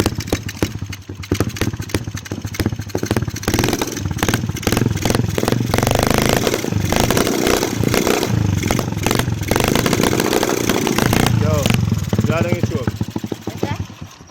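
A 150cc bored and stroked turbo supercharged motorcycle engine runs loud and close, idling roughly and revving with clattering bursts, while someone talks over it.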